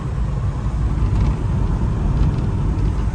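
An old barn-find car drives along, a steady close rumble of engine and road noise rolling on without a break.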